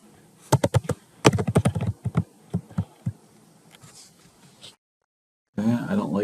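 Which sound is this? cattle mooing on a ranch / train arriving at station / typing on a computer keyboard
typing on a computer keyboard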